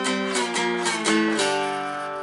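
Slide dulcimer playing a bar of F in a twelve-bar blues, with a steady run of sliding, ringing notes and chords sounding close and alone.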